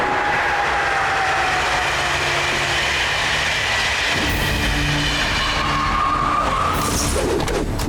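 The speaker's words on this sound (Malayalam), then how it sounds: "അവര് ട്രെയിൻ എടുത്തുകൊണ്ട് മുകളിലേക്ക് പോവാണ്" A cartoon train climbs uphill, making a loud, continuous rumbling roar with a long screeching tone and a change in pitch partway through. No one speaks.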